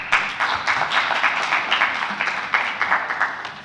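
Audience at an automotive industry forum in Tunisia applauds steadily as a speaker comes to the stage, a dense continuous clapping that holds at an even level throughout.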